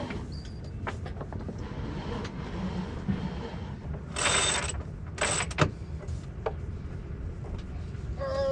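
A sailboat winch ratchets as the sail is furled and lowered, giving irregular mechanical clicks and rattles with a couple of louder whirring bursts midway, over steady wind and water noise.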